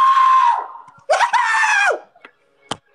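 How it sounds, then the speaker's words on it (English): A person screams loudly and close in two long, strained bursts separated by a short gap, followed by a faint brief vocal sound and a sharp short noise. "No, I want you to scream loud though."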